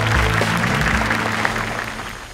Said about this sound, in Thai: ขอเสียงปรบมือเลย